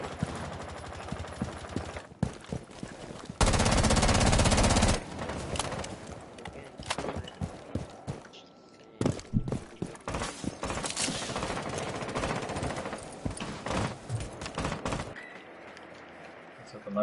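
Gunfire in the video game Rainbow Six Siege: a loud sustained burst of automatic fire, then scattered shots and clattering game noise with players talking throughout.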